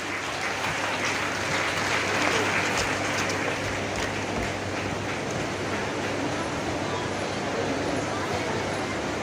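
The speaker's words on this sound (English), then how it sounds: "A big round of applause, please." Sustained applause from an audience at a college prize announcement, a dense, even wash of many hands clapping, continuous and moderately loud with a hint of voices underneath.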